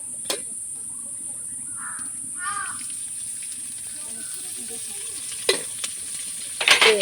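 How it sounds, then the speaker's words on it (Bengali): Raw onion and green chilli sizzle in mustard oil in a wok with a steady hiss. Occasional utensil clicks sound near the end, and crows caw faintly in the distance. "কাঁচা পেঁয়াজ, কাঁচা ঝাল দিয়ে দিলাম কড়াইয়ে, এবার একটু সরিষার তেল দিব।"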